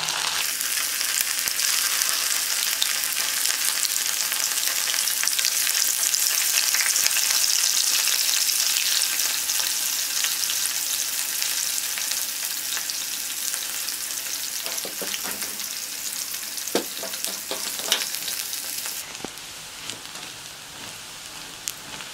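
Mushrooms fry in oil in a pan on a stove for hot buttered mushrooms, giving a loud, dense, continuous sizzle with a few clinks of utensils near the end before the sizzle suddenly drops to a quieter hiss. No one speaks.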